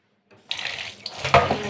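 Tap water starts running and splashes steadily into a sink while freshly cut fish are rinsed under it, close and fairly loud, with no talking.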